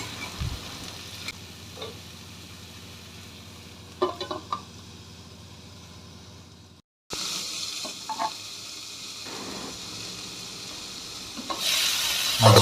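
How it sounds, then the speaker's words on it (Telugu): A ladle stirring ridge gourd curry in a pan, with faint sizzling and occasional clinks and scrapes, a brief silence midway, then the gentle frying continues. "ఇప్పుడు గరిటెతో బాగా కలుపుకొని మూత పెట్టి"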